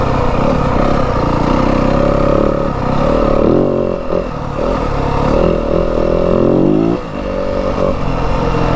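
A 2025 Yamaha WR250F dirt bike holds third gear on rough Arizona desert and mountain terrain, its engine droning loud and close with steady revving swells and brief dips, along with some chassis clatter.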